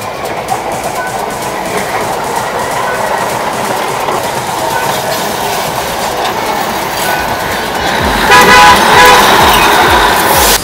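Diesel train near Darjeeling rumbling past at close range with a steady loud mechanical roar and clatter, then a horn toot near the end.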